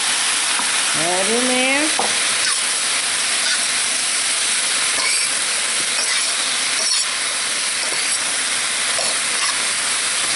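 Meat juice and sesame oil sizzle and fry loudly in a hot pan with jalapeno and vegetables, a steady close hissing that runs throughout, with a brief spoken phrase near the start.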